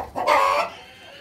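A brooding hen sitting on her nest in a farmyard lets out one short, harsh cluck up close, with quiet around it.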